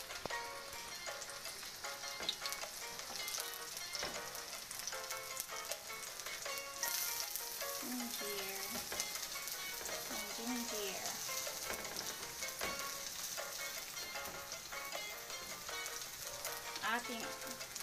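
Onion frying in hot oil in a pan for pancit, a dense, continuous close sizzle with crackles and occasional stirring scrapes, steady and loud throughout with no clear talking.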